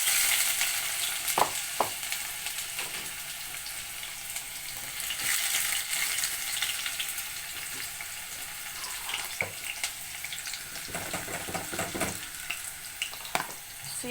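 Chopped onions frying in two spoonfuls of oil for a Somali rice and stew dish, a steady broadband sizzle throughout with occasional stirring clatters and light scrapes, no talking.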